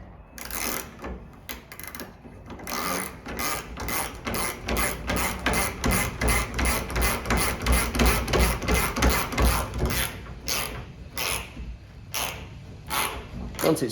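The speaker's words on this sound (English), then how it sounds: "get our nut on the end, and we're just going to tighten them up" A nut is tightened onto a bolt on a shutter drive bracket with a ratchet, producing fast, regular clicking strokes in close bursts, with short pauses between runs.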